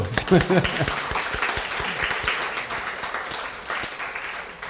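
Church congregation applauding during a Sunday service, a moderate burst of clapping under a voice speaking at the start, tapering off over a few seconds.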